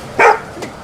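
A pit bull at an abandoned house gives a single loud bark, followed by a fainter short yelp about half a second later.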